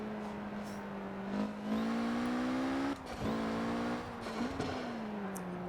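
A tuned Mitsubishi in Forza Horizon 4 revs with a steady, fairly quiet engine drone that rises and shifts pitch in steps, with brief breaks where the blow-off valve releases between pulls.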